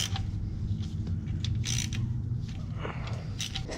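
A ratchet snugging the transmission pan bolts down over a new gasket on a Dodge Caravan / Chrysler Town & Country, giving a low mechanical creaking and clicking that runs steadily close up, with no talking.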